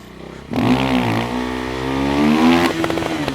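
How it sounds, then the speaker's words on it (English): A motorcycle engine runs out of RPM during wheelie training, revving high and holding a strained, wavering whine before dropping off, loud and close with no voices. "your bike will sometime start running out of RPM, so it will look something like this"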